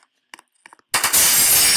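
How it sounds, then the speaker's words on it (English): Glass shatters in a video game: a few faint clicks and taps, then a sudden loud crash that opens into a bright, sustained spray of breaking shards. "And you can break glass."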